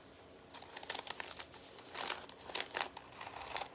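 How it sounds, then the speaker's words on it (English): Scissors cutting snowflake shapes out of a paper bag, a close run of crisp crinkling snips and rustles that comes in irregular bursts, with no talking. "we're just going to cut that shape out"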